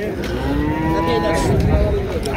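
A cow at a crowded cattle market lets out one long, loud, drawn-out moo that wavers in pitch, with market bustle and indistinct background voices underneath.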